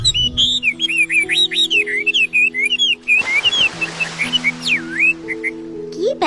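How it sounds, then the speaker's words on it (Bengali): A tailorbird sings in a cartoon, a lively run of bright warbling whistles and chirps over a soft tonal musical backing, close and clear throughout. "কি ব্যাপার টুনি পাখি, এত সুমধুর কণ্ঠে গান গাইছো যে?"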